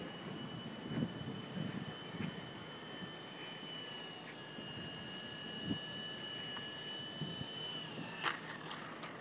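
Xtreme Productions Solo Pro 328 model airplane coming in to land in strong wind, a faint high engine whine held steady over gusty wind rumble with scattered thumps, distant and quiet.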